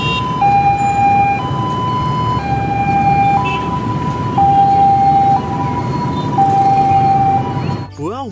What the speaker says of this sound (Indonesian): Wow, ini ada ambulan